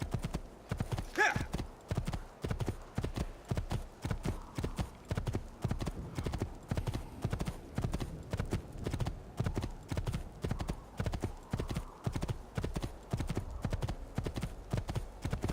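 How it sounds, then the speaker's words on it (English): Steady clip-clopping hooves at a trotting rhythm, close and continuous, with a brief horse whinny near the start, from the video game Assassin's Creed 2. "There's another horse right here."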